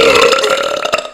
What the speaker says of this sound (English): You out-burped me